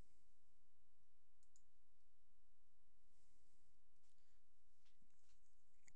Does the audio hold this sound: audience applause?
no